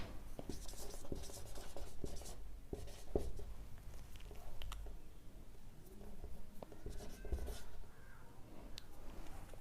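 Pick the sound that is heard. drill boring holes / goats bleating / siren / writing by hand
writing by hand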